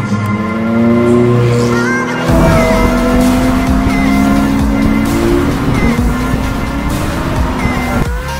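Ferrari 458 Speciale and Ferrari 430 Scuderia with Capristo exhausts screaming at high revs during a duel, loud and close, the pitch rising and falling through gear changes, with tire squeal in places.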